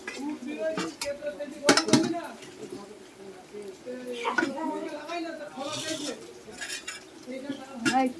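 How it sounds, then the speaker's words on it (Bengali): Meat and potato curry being stirred in a pot, with a spoon clinking and scraping against the metal in irregular strokes while people talk nearby. "এই যে আলু দিয়ে মাংস কষা হচ্ছে"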